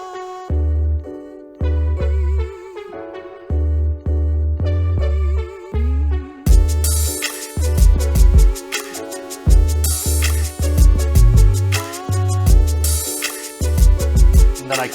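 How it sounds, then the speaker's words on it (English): An MPC-produced beat with a soft synth plays its intro, hook and verse: pulsing deep bass hits and melodic synth tones in a steady rhythm, with drums and bright percussion filling in partway through, loud and without talk. "I'll play the first intro,"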